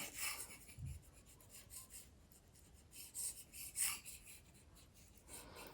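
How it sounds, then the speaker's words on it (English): The tip of a palette knife lightly scrapes across canvas paper while an oil painter sketches a tree, a faint, soft rubbing and scratching in short strokes, close and quiet. "I'm using the tip of the palette knife, and it's very, very lightly touching the actual canvas, the paper up here"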